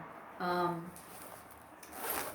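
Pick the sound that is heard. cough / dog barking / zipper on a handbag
zipper on a handbag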